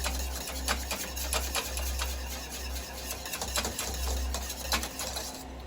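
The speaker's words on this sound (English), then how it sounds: "just gonna keep whisking that in" Whisk beating grated parmesan into Alfredo sauce in a pan, making a continuous close rattling clatter with rapid repeated strokes and no talking.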